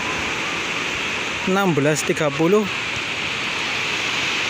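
Waves wash onto the shore at Jimbaran beach in Bali on an afternoon, a steady broad rushing surf heard throughout, with someone speaking briefly over it.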